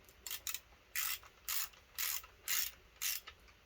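Ratchet wrench spinning down 9/16 connecting rod nuts on a Mopar 360 engine during piston and rod assembly, heard as seven close, loud bursts of rapid clicking in a steady rhythm with brief pauses between.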